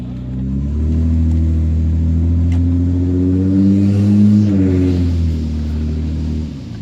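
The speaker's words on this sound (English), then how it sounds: "It's got some power, 3-liter dual overhead cam V6." A 1994 Lexus ES300 with a 3-liter dual overhead cam V6 drives along with a steady, close engine hum. The drone swells slightly midway and then settles again.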